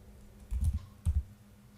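Quiet keystrokes on a computer keyboard while entering database table commands: two short bursts of soft clicks about half a second apart, faint and close with no talk.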